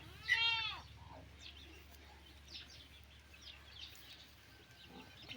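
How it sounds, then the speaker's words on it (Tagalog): A native chicken gives a sharp squawking call up close, followed by faint clucks and chirps scattered in a quiet outdoor setting. "Ayan, may mga manok, native."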